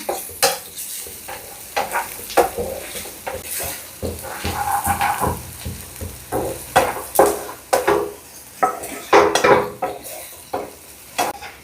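Onions fry in a pan as they are stirred, giving a steady close sizzle broken by repeated scraping and clinking of the utensil against the pan, with no talking.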